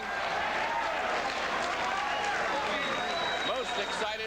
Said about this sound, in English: And there his wife Sue applauding